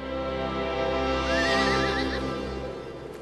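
Horses neighing and whinnying in snow on Shackleton's Antarctic expedition: a long wavering whinny rises over a steady low rumble, moderately loud, and the call fades out toward the end.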